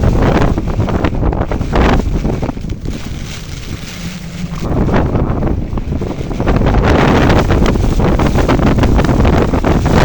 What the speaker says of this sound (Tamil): காற்று அவ்வளோ காற்று.